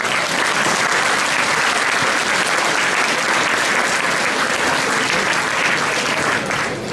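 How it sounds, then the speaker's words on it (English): A large crowd at a Liberal Party youth council launch gala applauds the Premier of New South Wales, loud, dense and unbroken clapping that holds for the whole stretch with no talk over it. "can we please a round of applause for the Premier"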